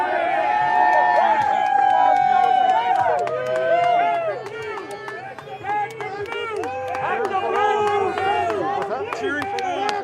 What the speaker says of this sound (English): Cheering for law enforcement